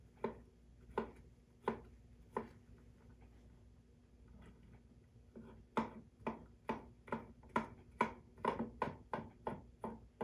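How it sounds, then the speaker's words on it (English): A knife chops vegetables steadily on a cutting board, starting with slow scattered strokes, pausing, then speeding into a quick, even rhythm; close and fairly quiet. "start chopping up the rest of the vegetables"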